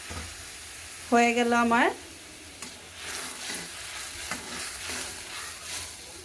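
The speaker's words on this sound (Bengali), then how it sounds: "এবার আমি কিন্তু এর মধ্যে ডালটাকে ছেড়ে দিব। আর ডালটা ছেড়ে দেওয়ার সময় চুলার আঁচটাকে একটু হাই হিটে রাখবেন।" Lentils hit hot oil over high heat in a papaya dal, a close sizzle with stirring scrapes, preceded by a short sharp squeal and joined by a woman's brief speech.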